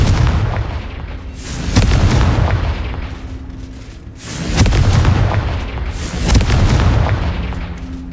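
Repeated deep booming fire blasts of the Confringo spell in Hogwarts Legacy, several heavy surging whooshes and bursts in a loose rhythm, loud and close.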